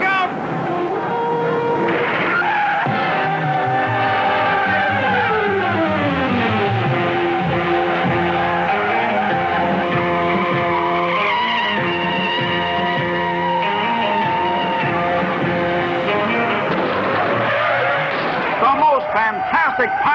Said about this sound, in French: Fantastic pile-up in auto racing history takes 37 cars out of the race.